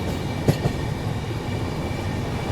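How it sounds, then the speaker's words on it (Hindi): The Pune Kanyakumari Express runs through Kochuveli station without stopping, giving a steady low rail rumble with a couple of brief clacks near the start, heard from aboard the train. "अपनी ट्रेन स्किप कर रही है कोचुवेली रेलवे स्टेशन, जिसको अब त्रिवेंद्रम नॉर्थ भी कहा जाता है।"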